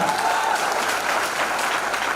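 Audience at an STFI Maharashtra unit event in Mumbai bursting into loud, dense applause, a steady wash of clapping filling the whole moment.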